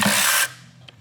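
A cordless power tool with a dying battery whirs loudly for about half a second while zipping bolts off during a 1993 Nissan 240SX clutch replacement, then cuts out, leaving quiet shop room tone and a faint click.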